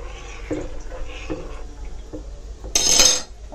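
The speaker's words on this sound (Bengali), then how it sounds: "এখন একটু সরিষার তেল দেব, একটু হালকা নাড়া দিয়ে দিই।" A spoon taps and scrapes lightly against a cooking pot as mustard oil goes in for a gentle stir, a few soft clinks followed by a brief louder splashing hiss near the end.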